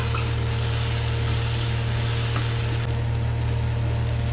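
Ground spices fry with ginger and garlic in a pan, giving a loud, continuous sizzle with a steady low hum underneath and no pauses.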